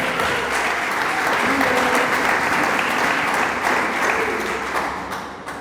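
Sustained, vigorous applause from a church congregation fills the room for over five seconds, many hands clapping together at a steady level before tapering off.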